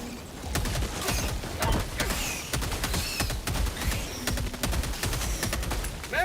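Gunfire from the video game Helldivers 2 plays on its hardest difficulty: dense, continuous volleys of rapid shots with mechanical clatter, loud and close throughout, and nobody speaks.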